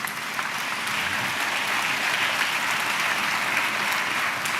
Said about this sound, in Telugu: చప్పట్లు కొట్టు స్తోత్రాలు చెప్దాం.